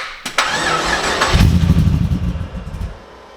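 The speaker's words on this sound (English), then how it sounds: "Let me do some of that starter." The starter of a turbocharged V8 ute whirs and cranks up close, the engine catching into a rough, sputtering run before settling lower.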